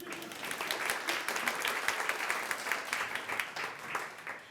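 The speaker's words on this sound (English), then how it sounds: "please give yourself a huge round of applause" A large audience at a live talk breaks into sustained applause, a dense, steady patter of many hands clapping together for several seconds with no voices over it.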